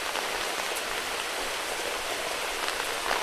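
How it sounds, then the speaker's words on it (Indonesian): Steady rain falls on a small hut in the middle of rice fields, making a dense, even hiss of drops with no pauses and no speech. "Ini baru pertama kali saya berada di saung hujan seperti ini tuh"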